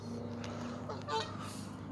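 A goose gives a single faint honk in a park, distant and brief over steady background hum and ambient noise.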